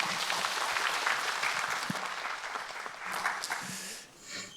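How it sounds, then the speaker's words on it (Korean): A church congregation at a sermon applauds in a steady, moderately loud wash of clapping that thins out near the end, with faint voices under it. "박수 부탁드립니다"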